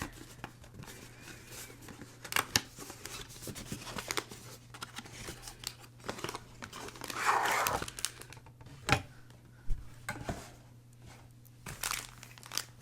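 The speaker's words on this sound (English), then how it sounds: "just gonna take everything out of the plastic" New stationery, including traveler's notebook cards, is pulled out of crinkly plastic packaging, making repeated close rustling and crackling bursts with sharper crinkles scattered throughout and no speech.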